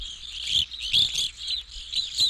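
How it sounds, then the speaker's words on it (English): Evening Grosbeak calls sound as a series of short, high, shrill chirps repeating every fraction of a second, fairly close and alone. "Page 223, Evening Grosbeak."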